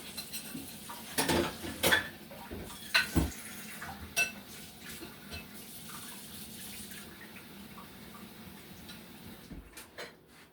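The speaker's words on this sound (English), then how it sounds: "right now I just mix everything up" Homemade Grape Nuts cereal ingredients are stirred together in a bowl, with irregular clinks and scrapes of a utensil that come loudest early on, then thin out into quieter scattered taps and a faint background hiss.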